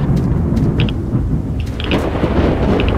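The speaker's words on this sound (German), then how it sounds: "Da, habt ihr das Gewitter gesehen?" Thunderstorm in the video game S.T.A.L.K.E.R.: Shadow of Chernobyl, with a deep continuous thunder rumble over rain, loud and close, with no talking.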